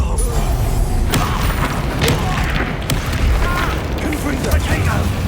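Confringo blasting-spell explosions in Hogwarts Legacy combat: a rapid string of loud booms, crashes and crackling impacts packed across a few seconds, with a voice briefly heard among the blasts.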